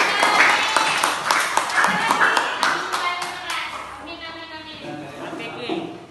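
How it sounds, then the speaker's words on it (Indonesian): Children in a primary classroom clap loudly and briskly together for a few seconds; the claps thin out and give way to children's voices and a teacher talking. "tepuk tangan buat Nadia."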